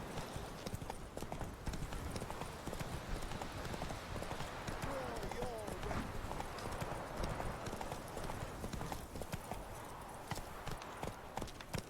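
Hooves of the horse Roach galloping in The Witcher 3, a fast, rhythmic clip-clop pounding steadily throughout, fairly close, with spoken voice and game sounds mixed in.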